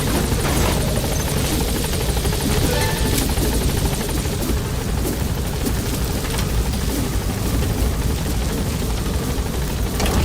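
A helicopter in the video game Metal Gear Solid V: The Phantom Pain gives a loud, continuous rotor roar and thump that fills the whole clip at close range, steady and unbroken.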